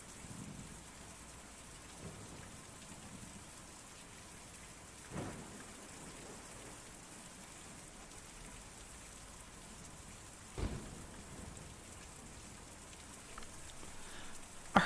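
Soft steady rain falls in the video game Kentucky Route Zero, with two distant thunder rumbles rolling in roughly five seconds apart and a quiet, constant hiss of drops between them.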